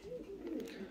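Turtle doves and ornamental pigeons coo steadily in a loft, their low rolling calls overlapping close by for the full second.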